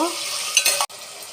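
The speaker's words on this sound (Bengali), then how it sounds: "আলু, টমেটো আর কাঁচা লঙ্কা দিয়ে দিলাম। কাঁচা লঙ্কা ছিঁড়ে রেখেছিলাম, ভালো করে ভেজে নেব।" Potatoes, tomatoes and torn green chillies frying in hot oil, a bright hiss with a few scraping stirs, close and loud, cut off by a sudden short break.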